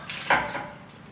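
Spoon scraping and knocking in a bowl while brownie batter with walnuts is stirred, a short clatter with one sharper clink, close and alone.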